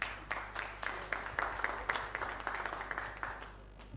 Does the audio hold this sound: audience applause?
yes